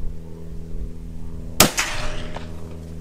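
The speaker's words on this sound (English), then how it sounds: "Thing bangs. Yeah, it does bang. So that's a real hunting rifle right there." A single sharp, loud hunting rifle shot fired outdoors, a sudden crack with a short echoing tail, standing out against steady low background rumble.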